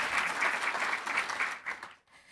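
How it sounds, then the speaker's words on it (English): An audience at a university presidential panel on campus internationalization gives a warm round of applause. The clapping is dense and even, then tapers off and fades out near the end. "So if you can give them a round of applause."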